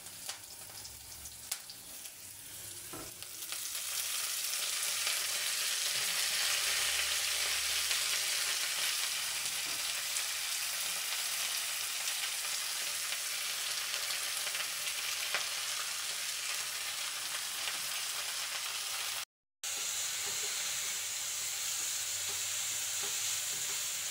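Washed drumstick leaves land in a pan of fried onions and burst into a loud, sustained sizzle that swells after a quieter start and holds steady, with a brief dropout near the end.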